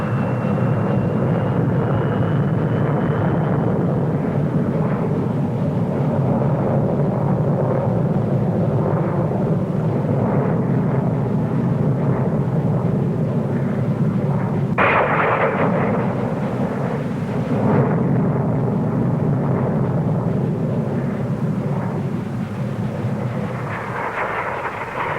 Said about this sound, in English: Now the new Saunders Roe SR-53 with Armstrong Siddeley Viper and de Havilland Spectre rocket mixed power unit. Taking off with the rocket going now.